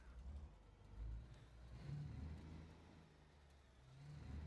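A video-game truck engine in a steady, low drone idles and rises slightly, with a smooth mechanical hum and no talking.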